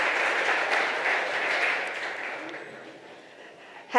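An audience at a Berkeley SkyDeck Europe startup demo day in Milan applauds a co-founder walking on stage, dense sustained clapping that slowly fades, with a host talking briefly.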